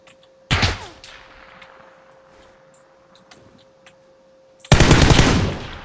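Two loud bursts of automatic gunfire in the video game PUBG, one short volley early and a longer one near the end, with a quiet gap between and no speech.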